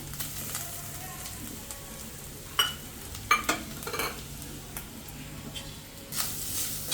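Coconut roasts in hot ghee in a pan: a soft, continuous sizzle with a few sharper stirring clinks and scrapes near the middle and end, close but quiet, without talking.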